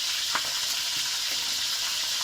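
A hilsa fish head frying in hot oil in a steady, loud, close sizzle that holds without a break.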